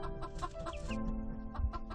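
A mother hen clucks softly among her nine four-day-old chicks, whose thin high peeps repeat in quick bursts over a low, steady background hum; close and fairly quiet.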